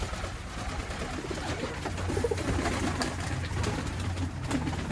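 At a pigeon market in Rajshahi selling Giribaz pigeons, many birds coo continuously, a dense murmuring chorus that runs steadily throughout at close range.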